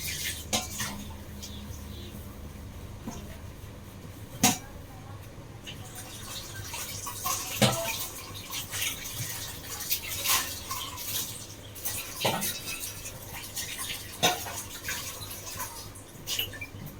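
Tiffin vessels are scrubbed and rinsed in a kitchen, steel pots and utensils clanking sharply every few seconds over a steady wash of running water, with a voice talking intermittently.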